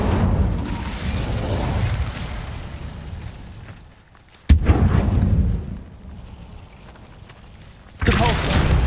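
Incendio fire spell cast in Hogwarts Legacy, a loud burst of roaring, crackling fire that cuts off sharply, followed by a second blast and then a third burst near the end.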